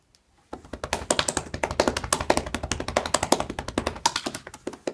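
Rapid cupped-hand percussion massage strikes on a body, hollow rhythmic pats in a steady fast stream close up, with brief pauses and no talking.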